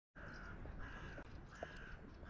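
Crows caw outdoors in Liepaja, several drawn-out hoarse calls repeating over a constant broadband background hum, moderately near and with no talking.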